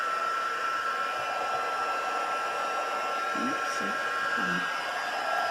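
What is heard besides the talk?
heat gun melting embossing powder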